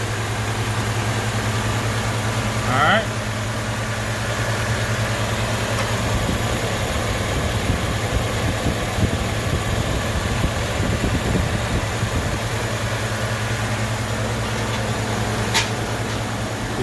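A truck engine idles steadily right after a cam swap, a constant low rumble with even harmonics held near the microphone throughout, one brief word spoken early over it.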